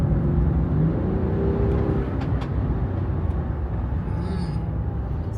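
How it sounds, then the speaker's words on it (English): Land Rover Defender engine accelerating while misfiring on cylinder one, a loud close rough drone with an uneven, stumbling low rumble throughout. "Now it's misfiring on number 1."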